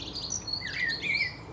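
A dunnock sings from atop a holly tree in an English garden in June, a quick warbling run of high thin notes over a soft outdoor background hum.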